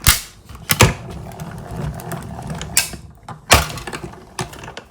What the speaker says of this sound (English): Then we're gonna put another number 3 on top and roll that on through to die cut it.